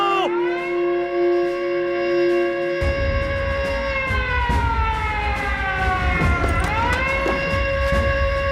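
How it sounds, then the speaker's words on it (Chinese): A warship's battle alarm siren in a First Sino-Japanese War naval battle scene wails loudly and steadily, its layered tones sagging and rising in pitch, with a deep rumble joining in partway through. "发战斗警报！ 发战斗警报！"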